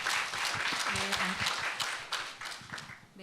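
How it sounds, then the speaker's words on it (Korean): An audience at a forum on peace education in Jeju claps to welcome a teacher to the podium, a moderate round of applause with distinct individual claps that gradually thins toward the end. "박수로 맞이하겠습니다"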